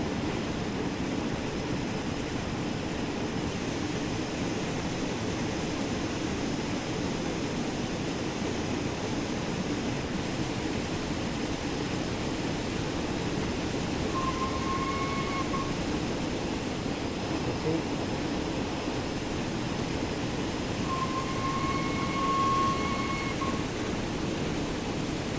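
The Flying Scotsman steam train slows down, a steady, dense rumble and rushing roar that runs throughout, with a couple of faint brief high squeals as the brakes ease off.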